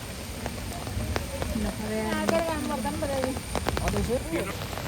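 Rain patters steadily at Kodanadu sanctuary, a continuous soft hiss running under people talking nearby.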